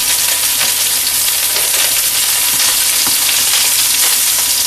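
Lamb chops sizzle and fry steadily in a pan with chutney, a dense continuous crackle with scattered louder pops and spatters, close and loud with no talking.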